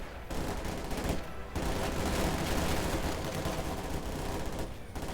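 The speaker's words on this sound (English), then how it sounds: "MG42 in the building. Suppresses the shock troops." Sustained MG42 machine gun fire in the World War II strategy game Company of Heroes 2, long rattling bursts broken by short pauses, steady and fairly loud amid battle noise.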